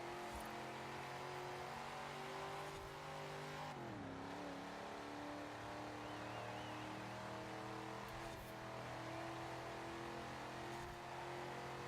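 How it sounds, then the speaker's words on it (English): A race car engine screams at full load on the final lap, a loud sustained high-revving drone held close throughout, with one brief dip in pitch around an upshift or turn and no talk. "This engine just screaming at max load."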